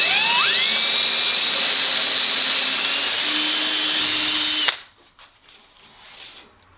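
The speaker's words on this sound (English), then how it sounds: "I'm going to go ahead and go in with a smaller drill bit to make the pilot hole here" Power drill with a small bit boring a pilot hole in the forward fuselage of a Sonex kit aircraft build, a loud steady high whine for several seconds that stops abruptly, leaving quiet room noise.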